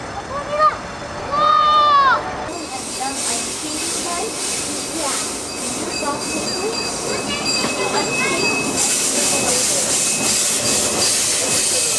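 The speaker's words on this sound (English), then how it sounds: "So we were on the little Huffer Train." Small puffer train ride at the San Francisco Zoo, with a steady rumbling, hissing train noise running through throughout and people talking over it.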